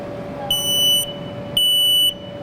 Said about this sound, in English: So this is a real smoke alarm just like you would have in your house, hanging on the wall or up on the ceiling